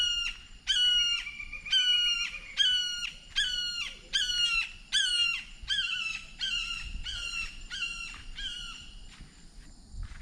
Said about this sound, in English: And there's the hawk.